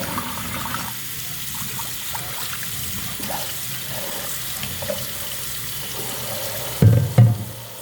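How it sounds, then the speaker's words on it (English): Water runs steadily over a cast iron pan being washed by hand in a kitchen sink, a soft continuous rush with a couple of brief clunks near the end. "this is cast iron, so it does have to be washed by hand with no soap."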